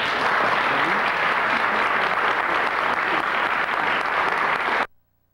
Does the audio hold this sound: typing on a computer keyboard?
no